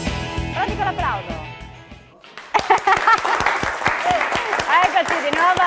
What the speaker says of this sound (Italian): Pronti con l'applauso?